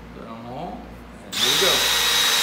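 A power drill starts up partway through and runs steadily and loud with a high whine, drilling wood in a stretcher drilling guide, after quieter shuffling and handling noises.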